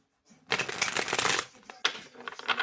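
Tarot cards being shuffled close up: a soft onset, then a dense riffling burst for about a second, followed by a few shorter crisp flicks and shuffles.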